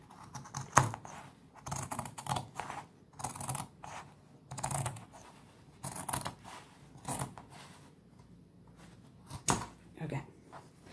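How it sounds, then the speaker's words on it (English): Scissors snip through denim jeans fabric in a series of short, crisp cuts at close range, with brief pauses between strokes and faint talking at moments. "we're going to cut straight across that mark"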